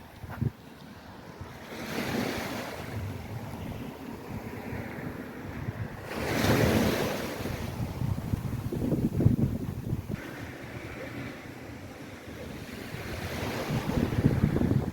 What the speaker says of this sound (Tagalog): tabi ng dagat sa tabi ng dagat